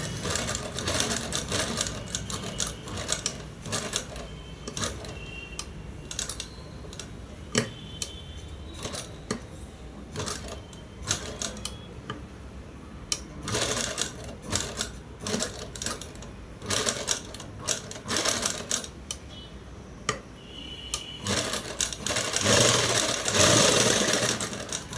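A sewing machine stitches a blouse being remade into a new design, running in bursts of fast mechanical chatter with brief pauses and small clicks, fairly close and steady in loudness.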